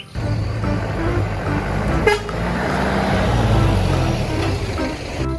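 Toy tanker truck horn gives a brief toot over steady mechanical noise, standing out once near the middle of a short stretch of continuous sound.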